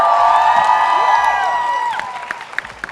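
Crowd at a live film promotion event cheers and whoops, a dense wash of voices that is loudest at first and then thins into scattered shouts and claps.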